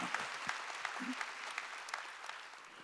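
Congregation applauding during a Wednesday worship service at a Korean church, a steady wash of many hands clapping with scattered sharper claps standing out, fairly faint and continuous throughout.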